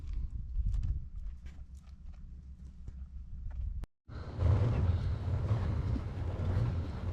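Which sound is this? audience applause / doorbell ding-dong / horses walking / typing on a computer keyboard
horses walking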